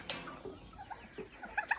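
Young chicks cluck and peep in a pen shared with turkeys, a few soft close calls scattered across a quiet moment, ending with a brighter cluster of chirps, no voices.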